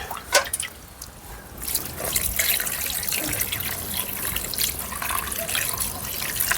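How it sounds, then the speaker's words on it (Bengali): Water is poured steadily over chhana, fresh cottage cheese, as it is rinsed in a cloth during rasgulla making, a continuous close splashing trickle with a few drips at the start. "দাদু জল ঢেলছে আর আমি ভালোভাবে ছানাটা ধুয়ে নিচ্ছি।"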